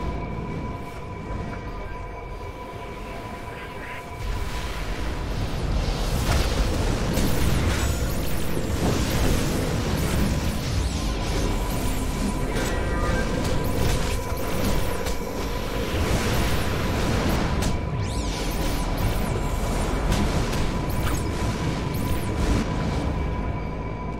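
Bombs blowing up in the video game DC Universe Online, a long run of loud overlapping explosions and booms after a quieter opening, rumbling on steadily with scattered sharp bursts.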